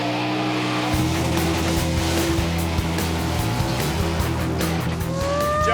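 A drag racing car launching with its tires spinning, a loud engine roar and harsh broadband tire noise building steadily, with a rising whine near the end.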